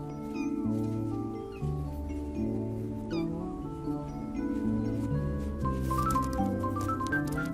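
A mother cat's meows, a few short rising calls scattered through steady background music.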